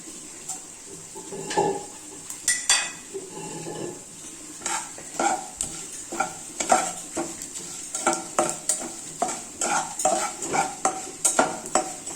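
Cumin and coriander seeds frying in oil, crackling and popping over a high sizzle, with frequent clinks and scrapes of a spoon stirring in the pan that grow busier and more rhythmic toward the end.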